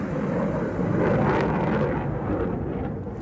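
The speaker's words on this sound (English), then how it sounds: "military aircraft were part of a routine training exercise today" Military aircraft on a routine training exercise pass overhead as a broad, rumbling jet roar that swells and then slowly fades, heard alone and fairly loud.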